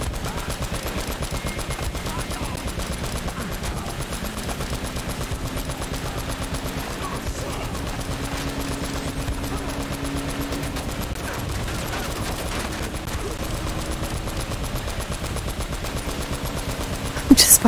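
Sustained automatic gunfire in a vehicle chase in the video game Uncharted: Drake's Fortune, a dense, unbroken stream of rapid shots under engine rumble lasting throughout, ending in a sharp louder burst.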